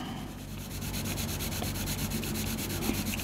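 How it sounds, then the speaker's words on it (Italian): Pencil graphite rubbing steadily against paper during layered shading, a continuous close scratchy hiss with a fine rhythmic texture and no pauses; no voices. "sentirete il foglio che trattiene la grafite sempre meno"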